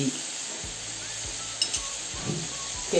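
Soya chunks sauté with salt over very low heat for a Zambian-style dish, giving a quiet steady sizzle with a few soft stirring knocks and a light clink, heard close with no talking.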